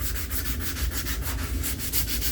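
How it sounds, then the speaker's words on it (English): Sandpaper scrubs steadily across a laminate surface in quick back-and-forth strokes, roughing it up for better glue adhesion; close, continuous rasping with a rhythmic pulse and no voices. "right now, we're going to sand this down"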